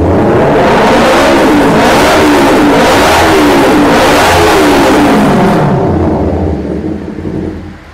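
A 2013 Kawasaki Ninja 250 motorcycle with a racing exhaust revs hard and loud, a rough roaring blare that rises and falls in waves before easing off and fading near the end, with no talking.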